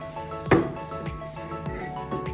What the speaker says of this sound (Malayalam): ചട്ടി അടുപ്പത്ത് വയ്ക്കുക